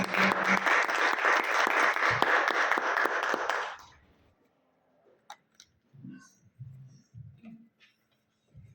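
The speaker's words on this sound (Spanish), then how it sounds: "Un aplauso para él" An audience at a medical faculty lecture applauds a speaker, a dense burst of many hands for nearly four seconds that stops abruptly, followed by scattered small taps and a few soft voices.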